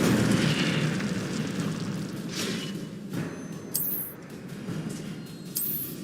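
An Incendio fire spell in the video game Hogwarts Legacy bursts into a loud roaring blast that fades into crackling fire, with further whooshing flares following.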